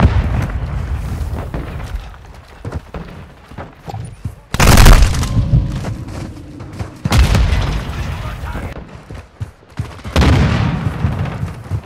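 Grenade blasts and gunfire in Call of Duty Modern Warfare 2 multiplayer, with loud booming bursts at irregular intervals over steady battle noise and crackling shots, a voice talking between them.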